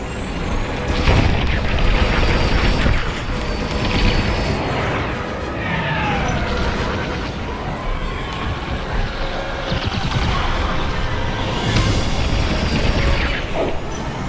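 Blaster fire and explosions rumble through a space dogfight in the VR game Star Wars Squadrons, a dense, loud wash of booms and whooshing engine sweeps with no clear pauses.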